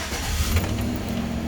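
A Chevy Silverado pickup's engine cranks and catches, a brief low rumbling burst close by, settling into an idle.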